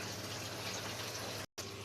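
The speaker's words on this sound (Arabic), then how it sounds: "حطينا عليها حبه ميه عشان لما نيجي نضربها ما تبقاش تقيله" Water pours steadily into a blender jar over chopped tomatoes in a home kitchen, a continuous close gushing stream that cuts off briefly near the end and then resumes.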